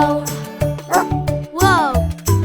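Short cartoon dog barks and yips punctuate a children's song about a farmer's dog, mixed with sung phrases and music in quick bursts.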